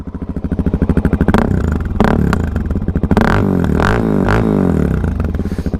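Yamaha motorcycle engine in neutral, idling with a loud pulsing throb and then revved in several sharp bursts, close to the bike with no talking.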